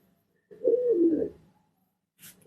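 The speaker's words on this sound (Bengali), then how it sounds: "অন্য একটা পাকা কবুতর দেখেন" A single soft, throaty pigeon coo rolls for about a second, fairly close, from a rooftop pigeon loft, followed by a brief faint rustle.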